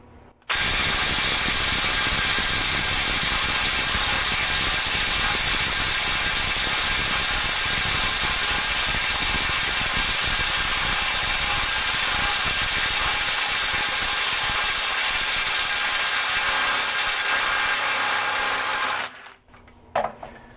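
Bosch Freak GDX18V-1860C impact driver hammering on a bolt, a loud, close, sustained rapid-fire rattle of impacts lasting nearly twenty seconds before stopping abruptly.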